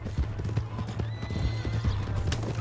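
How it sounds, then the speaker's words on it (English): A horse in the Red Dead Redemption 2 video game gallops with steady clip-clopping hooves and lets out a neigh, heard alone over a low background rumble. "That's my horse."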